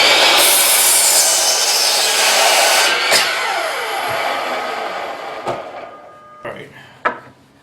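A power saw rips pressure-treated lumber boards into strips, a loud, sustained rasping cut that trails off, with a few sharp knocks and clatters as the wood is handled afterward.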